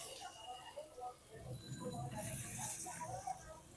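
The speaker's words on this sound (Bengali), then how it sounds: "মাছটা দিয়ে দিলাম" Soft, steady sizzling of river poa fish frying in hot oil, a low crackling hiss that continues throughout with no voices.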